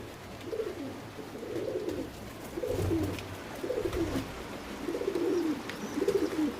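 Pigeons in a loft coo repeatedly in soft, rolling phrases, several overlapping calls rising and falling in a steady rhythm over a low background hum, with no talking.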